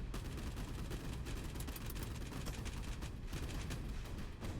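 Boat deck guns firing in the naval video game Boat Crew, a dense, loud, continuous barrage of rapid shots with no break.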